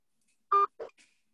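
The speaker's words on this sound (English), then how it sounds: "Please enter your access code followed by the pound or hash sign" Telephone keypad DTMF tones entering a conference-call access code: two or three short beeps in quick succession, the first loudest, heard alone.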